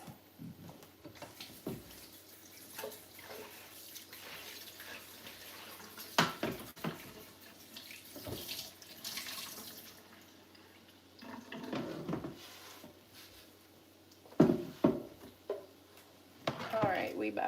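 Tap water runs over something being washed in a kitchen sink during home cooking, faint intermittent splashes and trickles coming in uneven bursts with a voice talking now and then.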